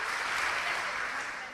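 A crowd at an Amway event gives loud, warm applause to honour a new double diamond, steady dense clapping that stays strong before easing off slightly at the end.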